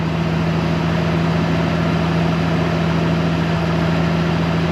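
A snowcat engine idles on gas while warming up, a steady low rumble with a constant hum, even and unchanging, close by with no voices.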